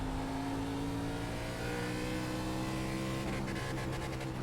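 Race car engine in iRacing, an ARCA Menards Series car at Five Flags, held steadily on the rev limiter with a constant loud buzzing drone and a brief stuttering near the end, no talk.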